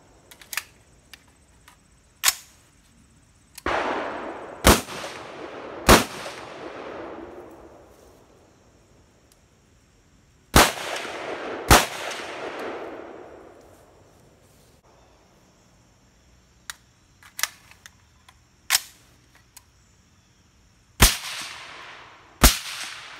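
Suppressed 5.56 and 300 Blackout rifle shots on a 100-yard outdoor range ring out as sharp, loud single reports, each trailing a short echo, spaced irregularly with a few quicker pairs.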